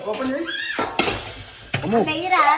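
A spoon and dishes clatter with a few sharp metallic knocks in a home kitchen, heard between and under people talking nearby.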